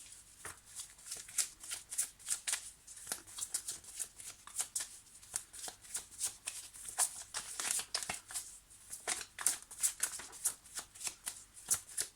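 A deck of tarot cards is shuffled close up in quick, repeated riffling bursts of crisp paper flutter, steady and continuous throughout.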